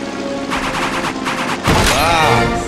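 Rapid bursts of heavy gunfire-like blasts rattle off in quick volleys, followed by a loud booming shot with a sweeping whine, all close and loud.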